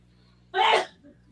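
A single sharp sneeze bursts out loud and close during a wrestling livestream, a short explosive rush of breath over a faint low background hum.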